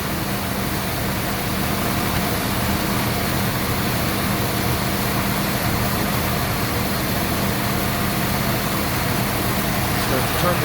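A Mopar car engine idles steadily with the battery disconnected, running on its alternator alone; a constant low hum and drone continues throughout at a loud, close level.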